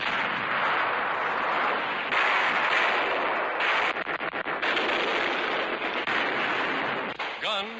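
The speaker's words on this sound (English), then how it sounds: "Guns, camouflaged in nearby fields, score a hit." Artillery guns camouflaged in fields fire during the 1943 Battle of Tunisia. A dense, rough wartime newsreel soundtrack carries continuous rumbling gunfire with a burst of rapid cracks near the end.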